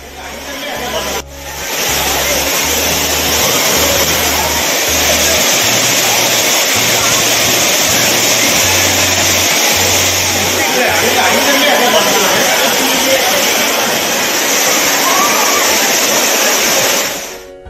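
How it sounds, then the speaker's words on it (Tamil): Heavy water flow roars over waterfalls in a loud, dense, unbroken rush that continues under a news narrator's voice. "அருவி, புளியருவி, சிற்றருவி உள்ளிட்ட அனைத்து அருவிகளிலும் தண்ணீர் ஆர்ப்பரித்து கொட்டுகிறது"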